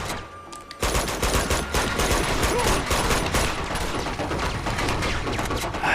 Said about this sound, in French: J'ai pris un gros fusil à pompe, c'est pas mal un fusil à pompe.